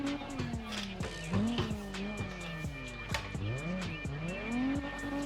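Racing video game car drifting, engine revving up and down in rapid gear shifts with tire squeal woven through, a continuous busy stream of sliding and revs without talk.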